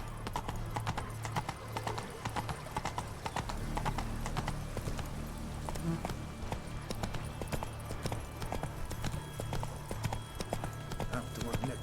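Horse galloping in The Witcher 3: Blood & Wine, a steady rapid clip-clop of hooves throughout with game sounds and spoken lines over it.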